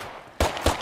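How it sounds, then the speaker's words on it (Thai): Two sharp gunshots crack out in the zombie survival video game State of Decay 2, spaced about a quarter second apart over a quiet background. "โอ้ยิงกันใหญ่เลย"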